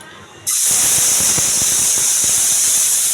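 Spice paste for a water spinach dish hits a hot pan and bursts into a loud, steady sizzling hiss that starts abruptly and holds strongly to the end, close up, with no voices.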